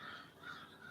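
Ravens and other birds call outdoors on an early spring day in Philadelphia, their faint hoarse caws carrying from a distance against steady background noise.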